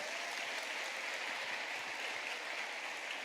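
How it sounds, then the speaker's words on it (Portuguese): A steady, dense round of applause from a congregation at a Catholic prayer gathering continues evenly throughout, close and unbroken. "Vai aplaudir."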